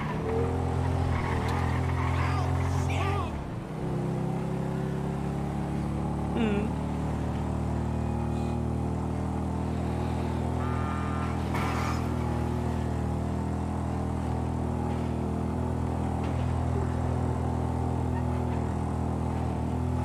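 A car driving in GTA 5, a steady loud engine drone with occasional revs and a brief dip, continuous for the whole stretch, while people talk over it.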